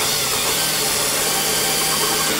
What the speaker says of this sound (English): I drill it to where it fits little by little